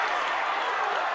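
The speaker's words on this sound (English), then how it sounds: "Crowd cheering on for Ben" A packed crowd at a kickboxing fight cheers and claps in a dense, steady roar of voices and applause that holds at one level throughout.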